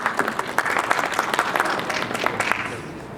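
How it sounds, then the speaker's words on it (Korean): Audience applause greets a guest lecturer at a B2B global platform seminar, a steady wash of dense clapping from a hall crowd that holds for about three seconds and tapers slightly at the end. "큰 박수로 모시겠습니다."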